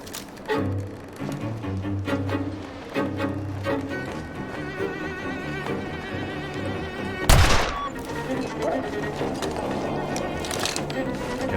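Pistol shots in a video game ring out in several sharp cracks, one louder burst standing out midway, over game music and ambient tones, with someone speaking now and then.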